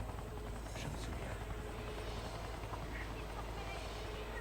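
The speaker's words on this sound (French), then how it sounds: "L'hélicoptère." Helicopter in the video game XIII on Xbox, a steady low rotor drone and whir filling the whole stretch at moderate level, with no break and no voices over it.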